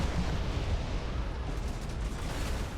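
Torpedo explosions in the space combat game Battlefleet Gothic Armada 2: a continuous, heavy rumbling barrage of booms, loud and dense throughout with no voices.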